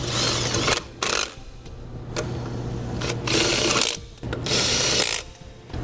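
Lug nuts on a trailer hub and drum assembly being run down with a power tool, heard as loud, close mechanical whirring and ratcheting bursts separated by short gaps.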